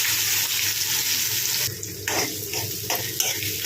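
Chopped onion slices hit hot oil already crackling with mustard seeds and cumin, giving a steady, loud frying hiss throughout with a few sharper sizzling bursts toward the end; no one speaks.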